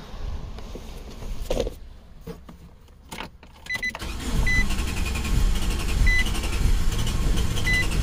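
A 2014 Nissan NV200 with a crank-no-start fault when hot cranks without firing. The starter churns loud and close and keeps going steadily through the second half.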